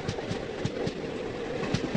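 An Indian train rolls along the tracks in a 3D train-crossing game, its wheels giving a steady, rhythmic clickety-clack over a continuous rumble. It is fairly close and alone, with no talking.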